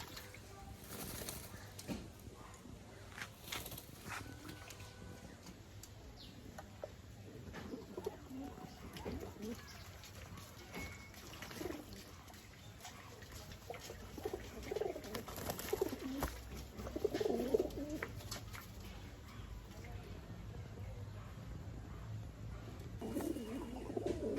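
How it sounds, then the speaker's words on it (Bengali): Pigeons in a loft coo in low, throaty bursts, scuffling and fighting with brief wing flaps, the calls rising and falling nearby against a faint background hum and no talking. "কি পরিমাণ মারামারি করতেছে দেখেন এখন বাইরের কবুতর আসি গুজল করে ফেলতেছে"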